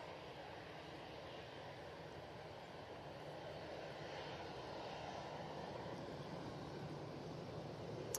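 An easyJet airliner taxiing off the runway at Manchester Airport produces a continuous broad jet engine roar, steady and fairly distant, with no voices.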